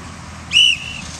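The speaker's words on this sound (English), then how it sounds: "Gonna be three whistles total now, all right?" A coach's whistle blows once at a middle school football practice, a short, loud, shrill blast standing out over faint background noise.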